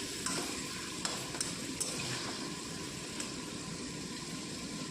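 Potatoes frying in a pan with turmeric and salt for a chicken curry, giving a steady, fairly quiet sizzle with a few light clicks of stirring and no voices.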